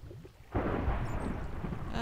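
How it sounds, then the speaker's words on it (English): Thunderstorm in a video game: a sudden loud, broad rumble of thunder breaks in after a quieter moment and keeps rolling steadily, with a rain-like wash underneath and no talking. "Oh, we have a thunderstorm going out there."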